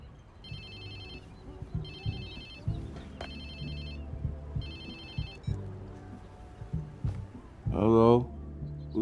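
An electronic phone ringtone in the video game Watch Dogs 2 rings in four regular repeating bursts over low background game sounds, and a voice answers near the end.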